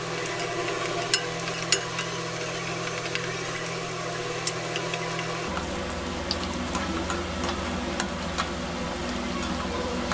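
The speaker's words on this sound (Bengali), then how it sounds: "আমি ততক্ষণ এটা নাড়াচাড়া করবো যতক্ষণ না হালকা বাদামি কালার আসছে" Chopped onion and garlic frying in a pan while being stirred for anchor dal, a continuous soft sizzle with scattered crackles and occasional scrapes over a steady low hum that shifts partway through.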